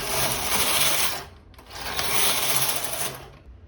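A knitting machine carriage sweeps across a cardigan in progress, making two long rasping, whirring passes with a brief pause between, close and fairly loud.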